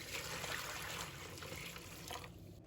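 Water pours into a bowl of clams that already holds salt and white vinegar. It makes a faint, soft splashing and trickling stream close by, which tapers off near the end.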